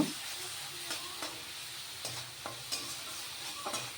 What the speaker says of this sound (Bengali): দিয়ে মশলাটাকে খুব সুন্দরভাবে কষিয়ে নেব